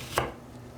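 One sharp knife stroke through an onion lands on a cutting board, a brief crisp chop followed by near silence.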